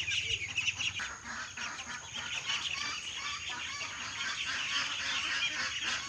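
A flock of one-month-old duckling chicks peeps and chirps continuously at close range, a busy, overlapping chorus of high calls at moderate volume.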